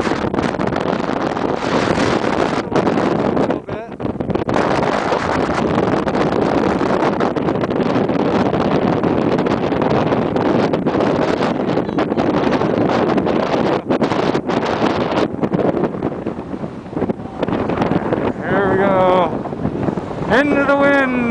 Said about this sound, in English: Just to give you an idea how actually windy it is.